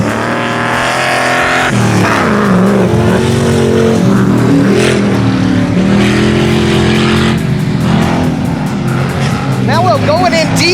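Engines from GMC and Ford junkyard trucks roar continuously while the trucks race, loud and close, with shifting engine tones throughout and excited commentary voices talking over them.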